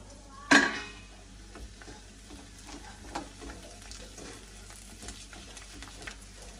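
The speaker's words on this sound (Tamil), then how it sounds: "இப்ப கடைசியா நாங்க வந்து அவளை போட்டு பொரிச்சு எடுப்போம்." Beaten rice (aval) tipped into hot oil for a savoury mixture snack, a sharp burst of sizzle at the start settling into steady, low crackling frying with occasional stirring clinks.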